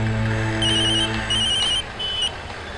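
A phone rings in repeated electronic trills against a steady background hum, loud and close, with brief gaps between the bursts and no talking.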